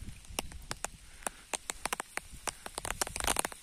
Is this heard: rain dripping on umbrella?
yes